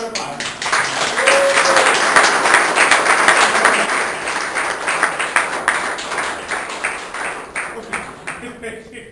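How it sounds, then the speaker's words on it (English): Audience applause for a startup co-founder at a Startup Grind entrepreneurship event, sustained steady clapping that stays loud for several seconds before thinning into scattered claps. "please give a round of applause"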